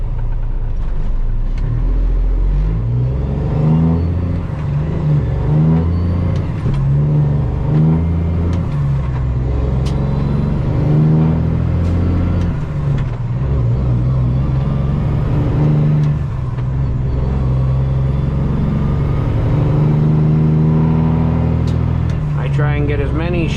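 A custom Peterbilt truck with straight pipes rumbles steadily on a two-lane road, its engine churning continuously with faint gear-grinding textures as it rolls along.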